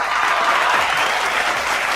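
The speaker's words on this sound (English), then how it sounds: "Y'all clap it up for the big homie" Audience applause for a guest on a sports talk show, a steady dense wash of many hands clapping throughout, fairly loud and close with no talk over it.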